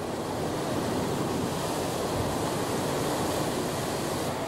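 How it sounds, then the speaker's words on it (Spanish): Ocean surf and wind batter slippery coastal rocks on the Atlantic islands of Galicia, a loud, continuous roar of breaking waves and gusting air with no pauses and no voices. "entre resbaladizas rocas batidas sin descanso por las olas y el viento"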